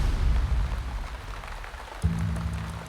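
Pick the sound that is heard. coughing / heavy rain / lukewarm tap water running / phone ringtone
heavy rain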